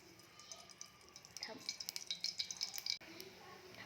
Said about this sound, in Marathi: कढईमध्ये मोहरी टाकून घेऊया.